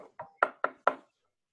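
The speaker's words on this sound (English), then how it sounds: "Knock on wood." Five quick knocks on wood in an even, rapid rhythm, sharp and close, the later raps louder than the first two, then silence.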